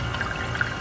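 Water from a tap or container fills a bucket for an iguana and tortoise enclosure, a steady, close splashing pour with no talking.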